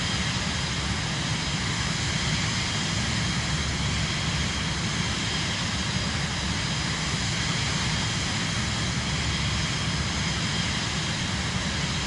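A Cirrus Vision Jet G2 in Microsoft Flight Simulator 2024, flown on PS5 on approach toward St. Barts, gives a constant, loud jet engine roar. The drone is unbroken, with no voices.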